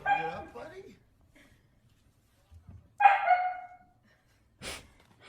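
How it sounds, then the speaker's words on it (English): A puppy gives a few short whimpers and yips, a high whine, then a sharp little sound, with quiet gaps between them. "Tired puppy."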